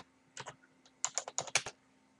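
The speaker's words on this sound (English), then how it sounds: "all we need to do now is type a quick message" Typing a short message on a computer keyboard, a brief cluster of close, crisp key clicks, two at first and then a quick run of about eight.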